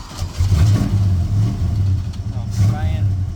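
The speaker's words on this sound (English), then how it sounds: "I'll give her smaller whacks on the throttle this time too" An engine on a project car takes small throttle blips, giving a steady mid-pitched idle that swells in short revs. A voice talks over it close by.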